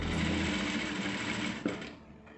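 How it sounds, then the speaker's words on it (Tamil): A sewing machine stitches a blouse in a steady, continuous mechanical whir with rapid needle clatter, close and alone without talk, easing slightly near the end. "இதே போல் ஃபுல்லாக தச்சுட்டு காமிக்கிறேன்."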